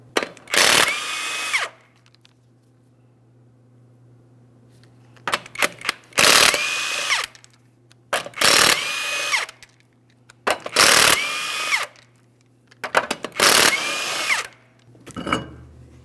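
An impact power tool spins off the five 21mm lug nuts from a wheel of a 2003-2008 Toyota Matrix. Five loud, whirring bursts of about a second and a half each are separated by quiet pauses, with a low steady hum underneath.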